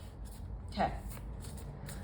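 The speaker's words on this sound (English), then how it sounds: "have me cut the deck" A tarot deck being cut and shuffled makes a single quick riffle of cards near the middle, soft and brief against a steady background hiss.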